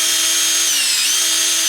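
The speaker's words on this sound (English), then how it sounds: "Shouldn't be using a drill to go back together" A power drill driving screws while an RC car, a Traxxas X-Maxx, is put back together, a steady high motor whine that dips briefly in pitch as it loads up, then recovers, close and loud.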